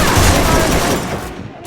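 Rapid gunfire from a video game shooter match, a dense fusillade of shots that stays loud and continuous before thinning out near the end, with a voice partly mixed in.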